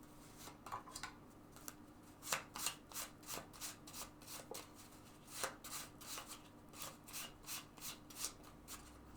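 A deck of tarot cards being shuffled, giving soft rapid riffling and rubbing bursts in a steady rhythm, quiet and close with no talking.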